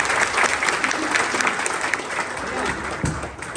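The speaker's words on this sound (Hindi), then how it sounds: "इस बच्ची के लिए ताली बजाइए एक बार" Audience applause for a little girl at a gathering, a sustained burst of crowd clapping mixed with cheering voices and chatter throughout.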